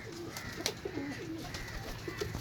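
Pigeons for sale coo softly in a loft, with several low rolling calls repeating in short bursts, fairly close, over a faint background hiss.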